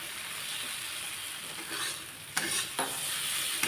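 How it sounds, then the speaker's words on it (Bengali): Katla fish curry being stirred in a frying pan over medium heat, a steady sizzle with soft scraping strokes, a couple of sharper spoon knocks against the pan near the end, close and alone. "দেখুন এদিকে আমি একটু নেড়ে নিচ্ছি।"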